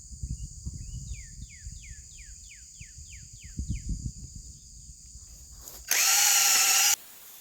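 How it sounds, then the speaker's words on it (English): A power drill whirs steadily and loudly for about a second, near and alone, while building an electric fence, after a quieter stretch of faint rustling and chirping background. "You want to make sure that you're holding your drill straight up and down"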